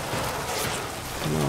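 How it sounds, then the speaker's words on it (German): Rain in the video game Hunt: Showdown, a faint, steady hiss of falling rain with low rumbling underneath, brief and without talk. "Außen regnet's doch, oder?"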